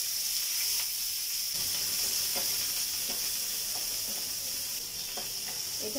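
Chopped onion dropped into a tablespoon of hot oil for a tempering, sizzling and crackling steadily and close up, with a constant bright frying hiss and occasional pops and no talking.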